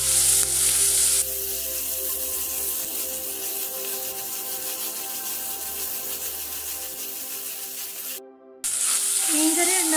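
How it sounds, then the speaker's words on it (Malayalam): Sardine curry masala, a Kottayam-style fish dish, sizzling in a pan while being stirred. A continuous close hiss is overlaid by a steady background hum and ends with a brief dropout and a louder burst. "ഇത് നന്നായി ഇളക്കി കൊടുക്കാം."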